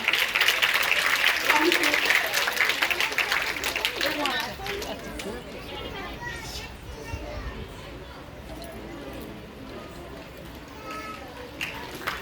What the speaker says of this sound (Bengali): হাততালিটা জোরে করে